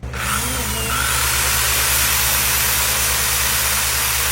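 A power drill runs continuously at high speed, loud and close, with a steady whining motor drone and no pauses for the whole stretch.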